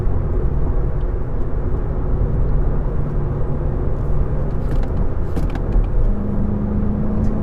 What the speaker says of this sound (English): And there's the turbo, and off you go.